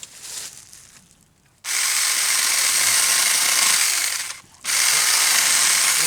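A very small chainsaw cutting through a tree limb: a quiet idle gives way to a loud, steady high-pitched buzz that cuts out briefly and then resumes at full throttle, close by and without speech.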